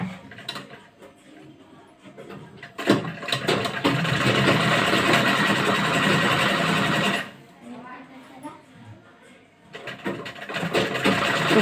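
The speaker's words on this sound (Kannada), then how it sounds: "ಆ ಥರ ಉಲ್ಟಾ ತಿರ್ಸ್ಕೊಂಡು ಸ್ಟಿಚ್ ಮಾಡಿ ಹೊಲಿಗೆ ಒಂದು ಹಾಕಿ" A sewing machine stitches blouse fabric in a tailoring lesson, whirring in a long steady run and then starting again after a pause, with a voice talking in the quieter stretches.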